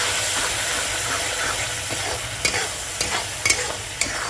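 Masala and finely chopped tomato sizzle steadily in hot oil for masala bhindi, with a continuous frying hiss broken by a few sharp stirring scrapes and spatters near the end.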